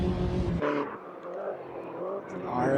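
Mini Cooper race car engine in a racing game holds a high, steady drone at speed in sixth gear, dipping briefly then building again, under a talking voice.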